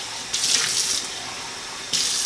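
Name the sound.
kitchen tap running cold city water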